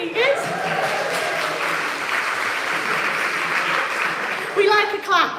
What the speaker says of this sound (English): We like a clap in this place, we like an applause.